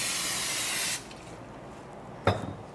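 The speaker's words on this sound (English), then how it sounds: "I'm gonna spray my grill" Close, steady hiss of cooking spray on a grill for about a second, then quiet, followed by a brief sharp sound.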